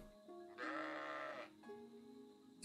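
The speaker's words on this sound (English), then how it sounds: "Sheep are cool." A sheep bleats in the video game Fire Emblem Engage, one wavering, drawn-out bleat over a steady game music backdrop, clear and close.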